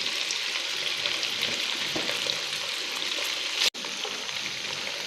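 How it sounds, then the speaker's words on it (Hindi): Steady, close sizzling and crackling of chicken frying in hot oil in a pan, with occasional stirring scrapes and a brief dropout near the end. "अब हम इसमें अपना चिकन ऐड करेंगे और इसको 3 से 4 मिनट अच्छे तरीके से भून लेंगे।"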